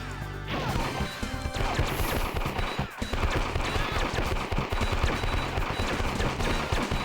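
A bomb blasts apart in the video game Wonder Boy 3, a loud crashing smash with dense percussive cracks over steady game music, the impact bursting in near the start and the clatter continuing throughout.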